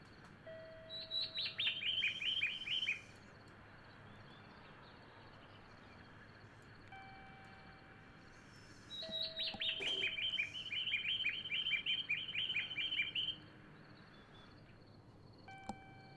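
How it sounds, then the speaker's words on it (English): Two bursts of rapid, high chirping from birds ring out close and fairly loud in Train Simulator Classic, set on a quiet Japanese railway platform, with a soft steady background hum between them. "Those birds are chirping rather loudly in my ear."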